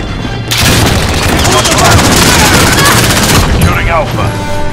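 Missile explosions and gunfire in the multiplayer shooter Modern Warfare, a loud, dense barrage of booms and rapid shots rumbling continuously for several seconds before easing slightly near the end.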